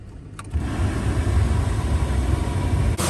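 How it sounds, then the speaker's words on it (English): A Ford F150 truck engine idles steadily with its heater on full blast, a close, continuous low rumble that holds even throughout, with a brief click near the start and another near the end. "So again, the truck is running."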